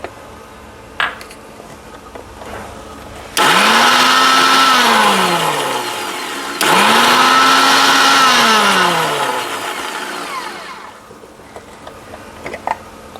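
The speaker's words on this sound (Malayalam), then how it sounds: "ഇനി നമുക്ക് അല്പം സൺഫ്ലവർ ഓയിലും കൂടെ ഒഴിച്ച് അടിച്ച് നോക്കാവേ." An electric blender whirs through alfam marinade with added sunflower oil, two loud bursts of a few seconds each with pitch sweeping down as the motor loads, separated by a brief pause.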